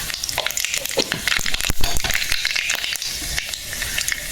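Dried red chillies crackle and sizzle in hot oil for a red amaranth dish, a dense, steady, close frying hiss with sharp pops scattered throughout and no voices.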